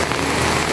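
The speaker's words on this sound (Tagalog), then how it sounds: "Walang tigil ang ulan." Continuous rain falling, a dense steady hiss with no breaks, fairly loud and close, no voices over it.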